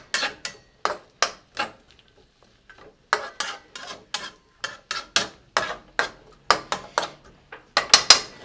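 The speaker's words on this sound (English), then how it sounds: "I'm doing a very light saute because what I'm doing is I'm prepping it." Peppers being lightly sautéed, with utensil scrapes and clinks against the pan coming in rapid, regular strokes that pause briefly partway through, close and fairly loud with no talk.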